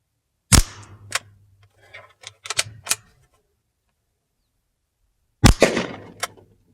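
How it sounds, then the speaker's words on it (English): Two sharp pops from an Umarex Ruger 10/22 CO2 pellet rifle, aired to about 80–90 PSI and firing at a bottle, each followed by a brief rattle, with a few lighter clicks between the widely spaced shots. "let's see if this thing's got enough power to pop that bottle."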